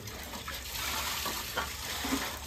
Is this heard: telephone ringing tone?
no